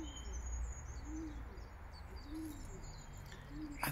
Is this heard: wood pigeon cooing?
yes